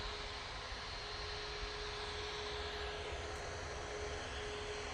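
A four-engined aircraft passing overhead near Manchester Airport gives a steady, broad engine roar with a constant tone running through it, even in level and unbroken for the whole stretch.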